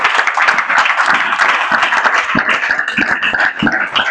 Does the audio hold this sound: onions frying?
no